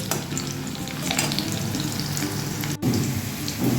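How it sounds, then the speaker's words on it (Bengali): Potatoes, partly steamed beforehand, sizzle in hot oil in a pan while cooking greens, a steady close frying hiss with occasional stirring scrapes and no talking. "একটু ভেজে নিই আলুগুলো"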